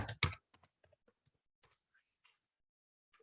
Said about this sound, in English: now we have to type ipconfig